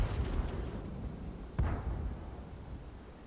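Tank cannon shots in World of Tanks at a shooting range, two deep booming blasts with the second sharper and followed by a fading rumble.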